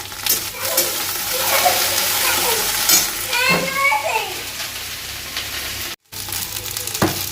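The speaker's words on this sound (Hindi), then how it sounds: "देखो सब्जी चला ली एक बार" Okra (bhindi) fries in a hot pan and is stirred, a loud continuous sizzle with scraping strokes; a voice and faint talk sound in the background, with a brief dropout near the end.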